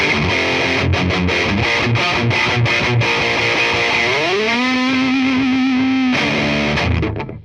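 Heavily distorted electric guitar played through a Bugera 1990 amplifier, loud and up close: a run of choppy palm-muted chugs, then a sustained bent chord ringing out before the sound cuts off, with no talking.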